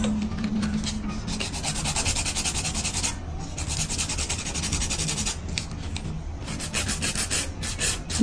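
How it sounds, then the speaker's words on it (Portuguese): A nail file rasps back and forth across the free edge of a fingernail during a gel manicure, a steady close-up scratching that runs without a break and is heard alone. "pra essa minha lixa passar certinho"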